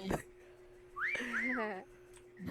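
A person whistles a short rising-and-falling tune of a few notes, fairly quiet, bracketed by brief bursts of voices before and after.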